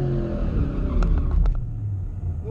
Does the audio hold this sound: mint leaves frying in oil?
no